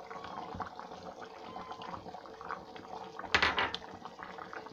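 A spoon stirs garam masala into a boiling chicken curry in a pot, soft bubbling and scraping with a brief louder clatter of metal against the pot near the end.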